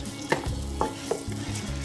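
Tender cooked mutton frying in ghee for nihari, a steady close sizzle with a few sharp stirring scrapes and clacks of a spoon against the pot.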